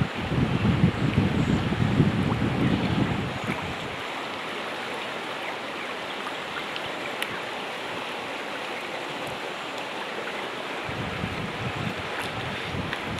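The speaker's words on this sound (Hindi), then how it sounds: "पानी की लहरें देखो कैसा ऐसे ऐसे करके आ रहे हैं।" Water waves lap and wash across a flooded village area under steady wind noise, with a rougher, louder churning at the start and again near the end.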